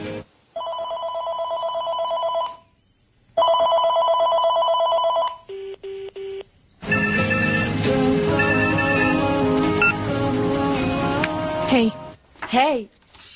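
A telephone rings in two long, loud electronic bursts with a pause between, followed by short beeps, then other sounds and voices crowd in over the last stretch.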